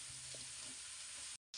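Crab pieces frying in oil, a steady close hiss and crackle of sizzling that runs unbroken and then cuts off briefly near the end.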